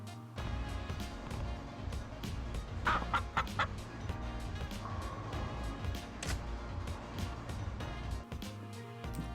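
A chicken in the video game Yakuza 0 clucks repeatedly in short bursts over a busy background of game sound, with a few louder squawks midway.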